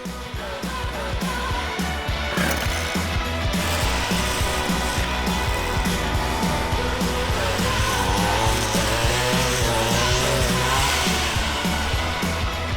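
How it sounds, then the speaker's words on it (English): A string trimmer cutting down weeds and vegetation on a farm, its small engine whining steadily and rising and falling in pitch as it cuts, loud and close throughout with no talking. "So now that I've finished weed whacking down here"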